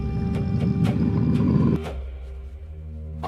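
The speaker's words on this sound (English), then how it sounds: "Did you get a wolf sound effect?" A low, rough snarl from a wolf growl effect on a soundboard rumbles loudly for nearly two seconds, then cuts to a quieter sustained tone with faint lingering noise.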